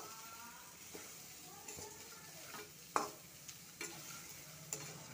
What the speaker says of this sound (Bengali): দিয়ে দিয়েছি সোয়াবিন আলু, ভালো করে নাড়িয়ে নেব